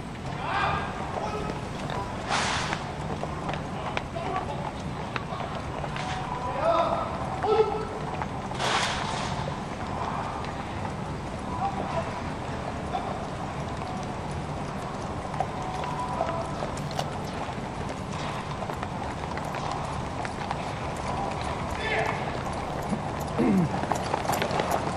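Horses of the Royal Horse Guard cavalry squadron clip-clop along at a ceremonial royal procession, hooves steady and moderately distant beneath crowd ambience and murmuring voices.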